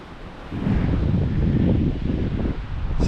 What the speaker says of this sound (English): A little bit windy, so I hope it's not too noisy on the camera.